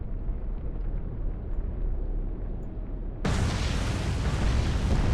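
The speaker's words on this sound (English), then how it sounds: "So the C3 tanker in the background has taken a hit." A torpedo strikes a C3 tanker in the Atlantic Fleet naval game, the steady low sea rumble suddenly giving way to a loud, sustained roaring blast that continues to the end.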